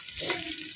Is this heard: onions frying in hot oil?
yes